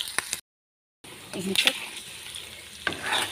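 Ginger and garlic sizzle in hot oil in a home kitchen while being stirred, with scraping stir strokes and crackling frying noise, briefly broken by a silent gap.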